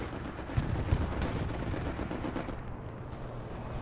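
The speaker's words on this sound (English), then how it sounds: "There's a strafe. Bombing runs out." Strafing gunfire and a bombing run in a World War II video game set at Omaha Beach, heard as a rumbling, crackling barrage with a couple of heavier thumps near the start, fairly faint, with no voices.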